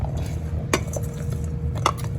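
Diced cucumbers, tomatoes and onion being tossed together in a bowl, soft squishing with two sharp utensil clinks against the bowl, close and unaccompanied by speech.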